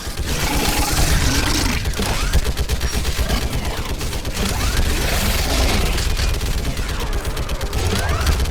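Sustained gunfire in a Mass Effect 3 firefight, dense rapid automatic bursts and booms filling the whole stretch with little letup, loud and close.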